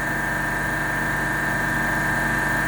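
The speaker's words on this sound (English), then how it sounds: "This is the 25 horsepower Bitzer piston compressor." A 25 horsepower Bitzer piston compressor runs steadily inside an air-cooled 5-ton cube ice machine, giving a loud, constant mechanical drone with a sustained whine and no pauses, with no voices over it.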